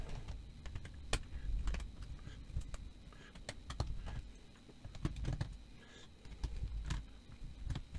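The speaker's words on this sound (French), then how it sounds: "faut que j'enlève la batterie de là." Small clicks and taps from disassembling a Lenovo L13 Yoga laptop while its battery is removed, a string of close, light plastic snaps and knocks at an irregular rhythm over a soft background hum.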